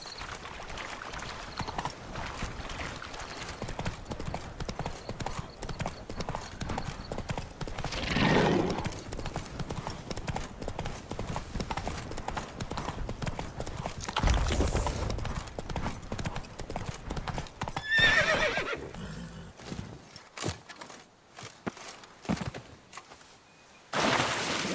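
Roach, Geralt's horse in The Witcher 3: Wild Hunt, gallops with steady rapid hoofbeats over a long stretch, pounding loudly in the foreground and breaking off abruptly near the end into sparse thuds.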